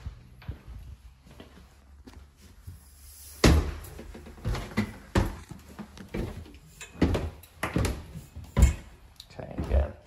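A basement door in a Fishtown twin home is opened amid a series of wooden clunks, knocks and footsteps at close range, with a person talking nearby.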